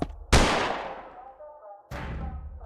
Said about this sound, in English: Something like a gunshot came from the women's restroom.